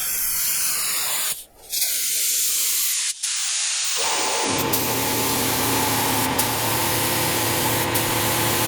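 A spray gun lays clear coat on a Nissan R32 Skyline drift car in a loud, close, continuous hiss, cut off briefly twice before spraying resumes steadily to the end.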